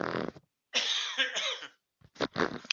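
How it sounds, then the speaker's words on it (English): Three rough, throaty coughs in close succession, loud and near, the middle one longest, with short silent gaps between them. "I was right. I did need a cough."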